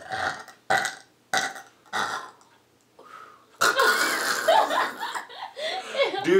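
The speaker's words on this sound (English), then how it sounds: "secondhand burping is just as worse as freaking secondhand smoking" Several loud, close burps in quick succession, each a short guttural blast, followed by people laughing and chuckling at close range.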